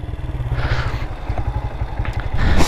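A motorcycle engine idles close by with a fast, lumpy putter, rising slightly in revs at the end, with some clatter over it.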